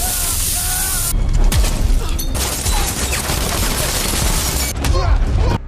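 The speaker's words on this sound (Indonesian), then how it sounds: "Pasukan taktikal langsung buka tembak ke Sam, tapi nggak satu pun pelurunya kena dia." A tactical squad fires guns at a man in a sniper film, a dense, loud burst of rapid gunfire and booms crackling throughout, with short sharp cracks and mechanical clatter mixed in.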